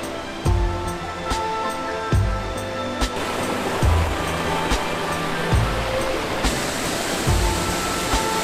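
The small 22-metre waterfall at Ginzan Onsen in Yamagata's mountains, a constant rushing roar of falling water, with a few dull low thumps and some brighter clicks breaking through now and then.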